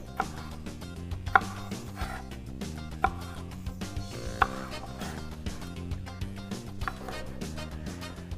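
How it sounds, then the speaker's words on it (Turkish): Sharp knife strikes on a cutting board, irregular and fairly close, chopping lettuce over a steady background of music. "Hızlı bir şekilde yeşil kısımlarını ayırıyorum ve bunları da doğruyorum"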